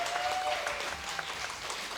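An audience at an esports invitational livestream claps in a brief, steady burst of applause, moderately loud and fairly close, with no talking over it.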